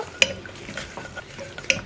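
A spoon scrapes and stirs potato sabji with salt in a pan, giving soft rhythmic scraping with two sharper metallic clinks, close and fairly quiet, no talking.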